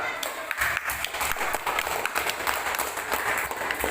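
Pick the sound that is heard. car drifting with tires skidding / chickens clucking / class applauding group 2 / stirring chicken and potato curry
class applauding group 2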